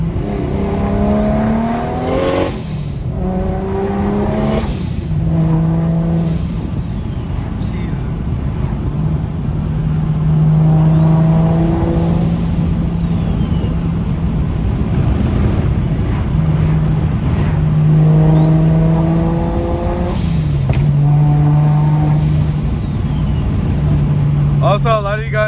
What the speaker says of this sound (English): you're probably confused on why my turbo sounds like this already